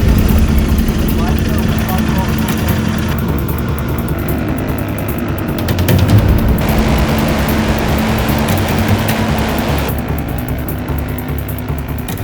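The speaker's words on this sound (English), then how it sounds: "650cc's, the roar of the engines get unsettled" Royal Enfield Continental GT 650cc race motorcycles roar steadily at a racetrack event, making a loud, dense engine drone that swells and eases as the bikes pass. A commentator talks over the noise throughout.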